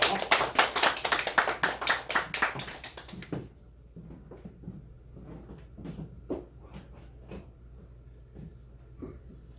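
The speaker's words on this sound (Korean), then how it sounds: "큰 박수 부탁합니다" Audience at a Korean CBMC business fellowship general assembly and year-end gathering claps loudly and steadily for a few seconds, then breaks off into scattered, sparse claps and faint room noise.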